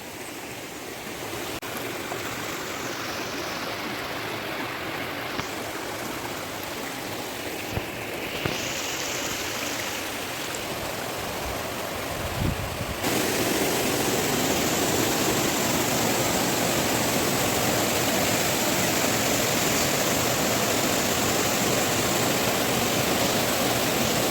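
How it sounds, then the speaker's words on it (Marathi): A natural stream of clear water flows steadily through scenic countryside where friends are swimming. The rushing sound is continuous and fairly close, and it grows a little fuller partway through, with no voices. "त्याच्या बाजूने छान असा निसर्गरम्य बऱ्याचं पाणी स्वच्छ असं सुंदर वाहतं आहे"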